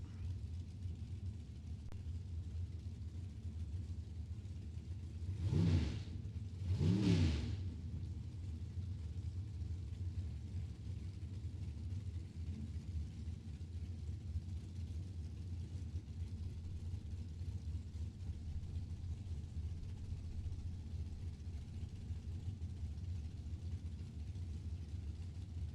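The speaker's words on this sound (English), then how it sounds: "Dragster's a pair coming up." Two dragsters race as a pair at a Super Pro drag event, heard as two brief swelling engine passes early on over a constant low rumble that fills the rest of the stretch.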